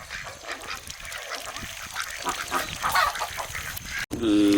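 Ducks honk and quack in a noisy outdoor farmyard, their calls overlapping continuously at fairly close range, with a brief cut to a different sound near the end.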